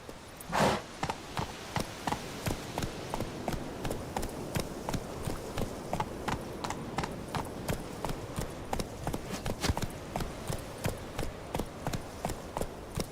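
Roach the horse gallops in The Witcher 3, a rapid, regular clip-clop of hooves close by that holds a steady rhythm throughout the stretch.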